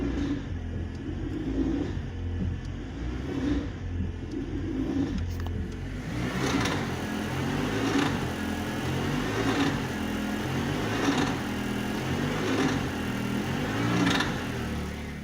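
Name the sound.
car accelerating gently against brake to reveal CV joint clunk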